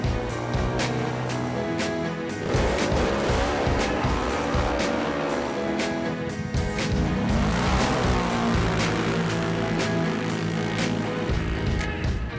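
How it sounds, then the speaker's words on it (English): Mud bog trucks roar nonstop through a soaked track, engines revving hard and loud with rising and falling pitch as they push through thick mud, close and dominant with no talk. "the engines roared, mud flew, and driver after driver pushed their trucks to the absolute limit"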